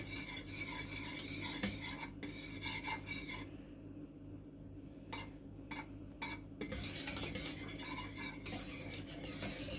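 Milk at a rolling boil for rice-free Turkish sütlaç being stirred in a pot, a steady scraping, clinking spoon rhythm against the metal with a bubbling hiss, pausing briefly mid-way before resuming close and clear.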